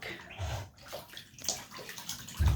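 A two-month-old pet duck bathes in shallow water, making continuous splashing, sloshing and dripping, close by, with a heavier splash at the end and no speech.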